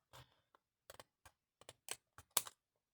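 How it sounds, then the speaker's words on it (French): Scissors snip through a strip of washi tape in a few quick, crisp cuts, close and quiet, with short silences between the clicks. "avec une paire de ciseaux, ça se coupe très bien"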